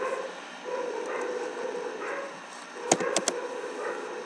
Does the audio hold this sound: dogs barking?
yes